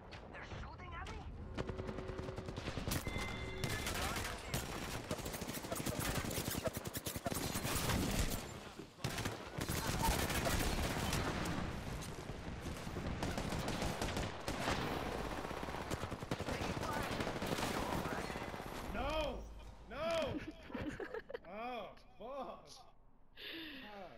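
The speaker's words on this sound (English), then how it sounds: "They're shooting at me?" Gunfire aimed at the player in a video game, dense bursts of shots crackling nearly nonstop, with a voice talking over the shooting and the fire thinning out near the end.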